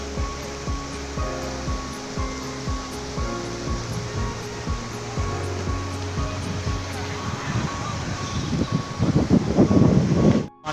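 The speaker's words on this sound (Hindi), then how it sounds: "ये भी नदी बहुत ही उफान पे है" The flooded Durgavati river in Jharkhand, in spate, gives a loud, continuous rushing roar of water. A steady rhythmic low thumping runs through it, and the roar swells louder near the end.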